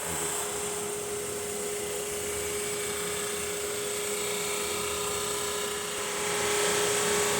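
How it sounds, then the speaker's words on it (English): A SuperMax mini drum sander runs a thin piece of wood through, giving a steady high whine over broadband rushing noise that swells slightly near the end, close and continuous without talk. "Run this through our Super Max mini drum sander here."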